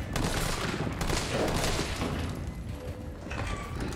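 Gunfire in Resident Evil 3 Remake rattles out in a loud, rapid burst of shots with mechanical clatter, thinning out toward the end.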